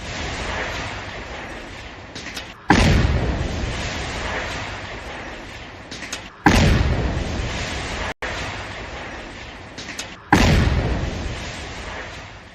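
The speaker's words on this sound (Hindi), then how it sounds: "धमाके की गूंज सुनिए" Several heavy booming blasts, each hitting suddenly and rumbling away into a long echoing tail, spaced a few seconds apart with no voices.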